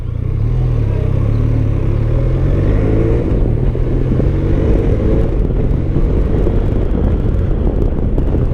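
A Benelli TRK 502 motorcycle engine runs at a raised idle around 1750 RPM, a steady, close, low rumble that holds constant throughout with wind buffeting over it.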